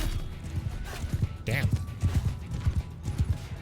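Horse hooves clip-clop in a rhythmic gallop during a Mount & Blade II: Bannerlord battle, with a horse whinnying briefly midway and someone speaking over the hoofbeats.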